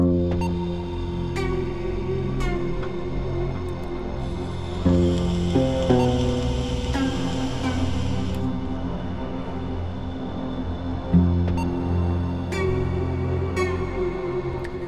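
Plucked string notes ring out in layers, a guitar and a koto weaving sustained tones together, with a shimmering high wash swelling in the middle.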